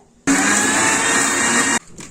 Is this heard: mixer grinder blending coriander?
yes